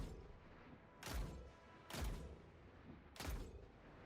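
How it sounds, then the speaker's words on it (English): An arc machine gun firing in the video game Destiny 2, three muffled, booming shots spaced about a second apart, heard at a distance over a low, steady background rumble. "I'm just going to use my arc machine gun and just take my time to take down the sniper from far away"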